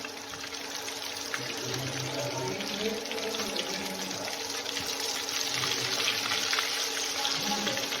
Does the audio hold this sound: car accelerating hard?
no